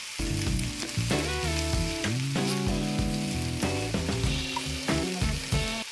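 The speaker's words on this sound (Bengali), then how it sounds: "পেঁয়াজ কুচি খুব বেশি ভাজার দরকার নেই," Chopped onion fries in a pan for a mutton posto dish, a steady sizzle running beneath prominent melodic background music throughout, with no speech.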